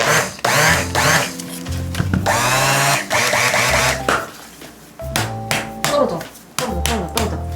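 A mini blender grinds almond flour and powdered sugar together for macaron batter, giving loud, close motor whirs in repeated short bursts with brief pauses between them.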